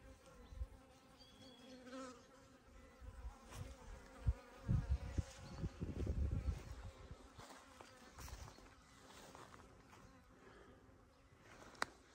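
Honey bees buzzing at an apiary as they come to drink water, a faint, continuous insect drone with swells of nearby wingbeats and no talking.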